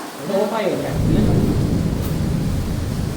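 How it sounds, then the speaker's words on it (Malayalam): Thunder rumbles during rain: a low, rolling rumble builds over a steady hiss of rainfall, with a brief voice near the start. "നല്ലൊരു മഴയും കഴിഞ്ഞു, ചെറിയ തോതിൽ ഇടിമുഴക്കം ഉണ്ടായിരുന്നു"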